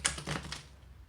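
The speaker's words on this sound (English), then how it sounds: "I'm just going to shuffle the deck a few times" A tarot card deck riffled and shuffled in a few quick, crisp bursts of papery flutter, close and alone with no talk, fading out after the first half second.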